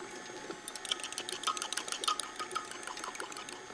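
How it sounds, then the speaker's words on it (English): Buttermilk and one cold egg whisked together in a bowl, the whisk clicking and tapping in a quick, fairly steady rhythm close by, with no talking. "I'm just gonna whisk them together."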